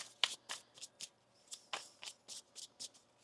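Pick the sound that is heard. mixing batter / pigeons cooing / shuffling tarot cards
shuffling tarot cards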